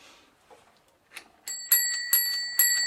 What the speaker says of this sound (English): I think the bell has seen better days.